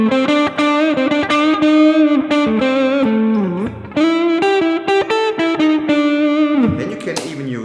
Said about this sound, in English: it's a really good guitar because the pickups somehow sound better with a little bit of distortion